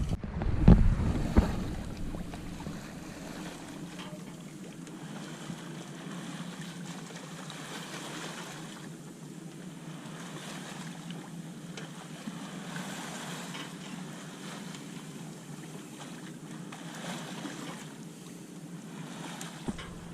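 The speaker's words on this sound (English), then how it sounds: "So we killed the engine and we're sailing. We've got full canvas up." Steady wind and water rush over a sailboat under full sail with the engine off, near Catalina, a brief knock or thump near the start, then continuous airy noise.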